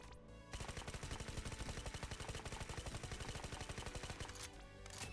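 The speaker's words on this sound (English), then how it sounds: "Grenade launcher." A grenade launcher fires in the video game Snowbreak, a rapid string of loud, evenly spaced shots that runs for about four seconds before stopping.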